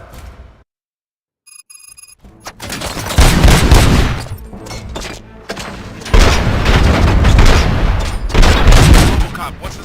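Bursts of gunfire and booming impacts from the video game RoboCop: Rogue City erupt loudly and repeatedly after a brief quiet stretch with a ringing tone, with voices heard beneath the shooting.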